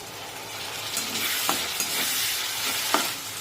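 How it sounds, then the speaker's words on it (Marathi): Tomatoes go into browned onions frying for a village-style brinjal curry, a constant close sizzle punctuated by a few sharp stirring scrapes and taps. "यामध्ये टोमॅटो टाकूया"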